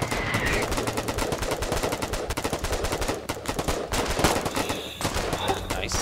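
Sustained gunfire in the war game Foxhole, rapid bursts of machine-gun and rifle shots crackling in a steady rhythm, with a few louder impacts throughout.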